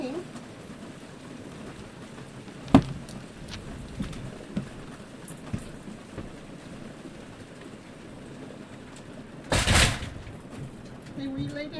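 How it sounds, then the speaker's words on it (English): Steady rain patters faintly on a surface throughout, with a few sharp knocks and a louder burst near the end, while people talk. "It's just rain."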